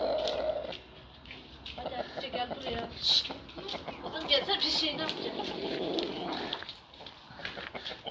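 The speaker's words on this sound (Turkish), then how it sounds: "İşte diğer horozumuz da böyle birbirlerine kur yapıyorlar." Chickens cluck and a rooster sounds off as roosters court hens, among bird chatter, with people talking over the birds throughout.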